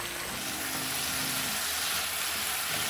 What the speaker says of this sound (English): Finally, add 2 tablespoons of corn syrup and stir fry briefly.